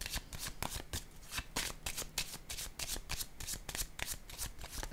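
Tarot cards being handled and laid out, giving a quick run of crisp, papery flicks and taps that repeat steadily at close range with no talking.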